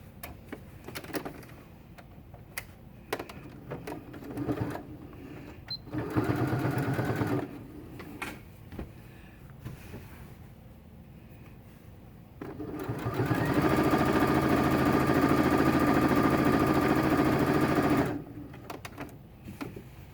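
A sewing machine stitches the binding on a kitten quilt, first in short bursts, then in one steady run of about five seconds before stopping, with handling noises around it.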